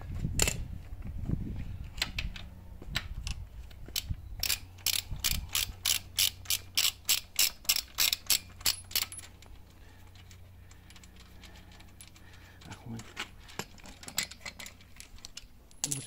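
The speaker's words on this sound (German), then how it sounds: "Schrauben wir eben den Stoßdämpfer noch hier dran." A ratchet tightens the screws on the shock absorber of a 125cc bobber motorcycle, with rapid rhythmic clicking bursts and a steady run of clicks in the middle, plus metallic handling noises, close and fairly quiet.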